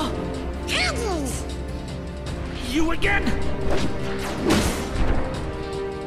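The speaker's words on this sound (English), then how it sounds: "Cannons!" Cannons fire in the video game Kingdom Hearts II, giving several booming crashes over game music while characters speak.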